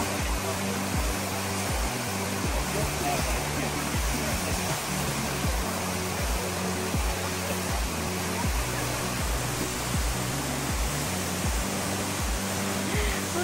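Kaaterskill Falls in New York roars as a loud, dense, continuous wash of falling water heard up close, with a low rhythmic rumble beneath and no voices.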